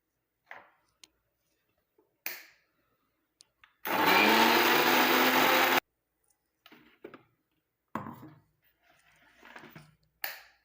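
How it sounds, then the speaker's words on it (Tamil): A kitchen mixer grinder whirs loudly for about two seconds as it grinds ingredients for a homemade hair dye juice, framed by quiet clicks and handling taps before and after, with no talking. "இப்போ இதை நம்ம அரைச்சிட்டு வந்துடலாம்."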